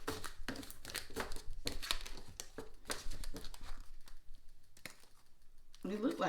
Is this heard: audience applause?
no